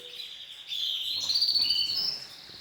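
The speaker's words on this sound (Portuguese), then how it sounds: "Aqui nós criamos canários domésticos" Domestic canaries sing in a bright, high, warbling series of trills and chirps, close and clear, with faint background noise and no talking.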